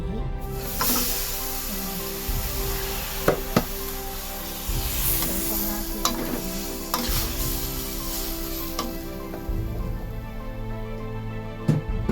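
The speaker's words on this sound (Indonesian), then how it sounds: "Dan lopaknya yang sudah aku pasrah tadi, aku oseng lagi." Lopak, a Chinese New Year cake, stir-fried in a hot wok with leftover dried-shrimp oil. A steady sizzle and hiss sounds close and loud throughout, broken by repeated scraping and clanking of the spatula.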